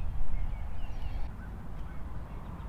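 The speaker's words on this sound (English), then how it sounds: "Get out of here, geese." Faint honking calls of geese in the distance over low rumbling background noise, a few scattered cries rather than a loud flock.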